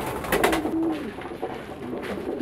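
Domestic pigeons coo in a short, close, low throaty phrase with a rising and falling tone, heard alone without any talking.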